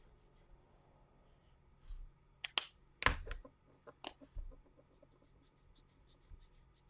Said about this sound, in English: It feels surprisingly scratchy with the marker nibs.